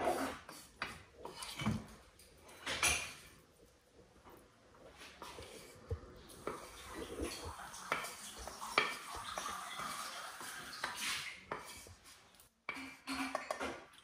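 Cooked bourek filling tipped into a pan and stirred, with soft scraping and clinking of utensil against metal, a faint sizzle, and a quiet cough.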